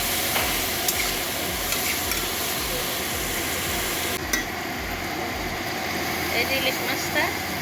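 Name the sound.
hilsa fish added to a hot pan, sizzling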